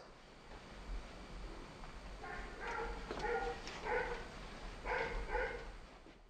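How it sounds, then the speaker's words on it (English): A puppy and an older dog play with dog toys indoors, making faint, short bursts of yips, whimpers and small barks in a few clusters over a quiet room hush. "Here, my good friend Josh Morand is playing with his puppy Seif in the same room."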